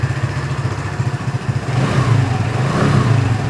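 Peugeot Django scooter with a liquid-cooled 4-valve engine revs through its exhaust, a close pulsing idle that swells into a louder, steadier rev in the second half.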